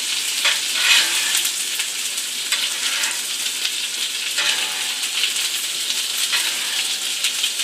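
A rib eye steak fries in oil over high heat, making a loud, dense and continuous sizzle that crackles evenly throughout, with no voices over it.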